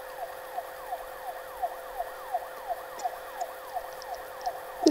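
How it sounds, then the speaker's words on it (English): A wailing siren in the video game Five Nights at Candy's 3 sweeps up and down repeatedly at a steady rhythm, sounding somewhat distant, with no voices over it. "There's sirens in the background."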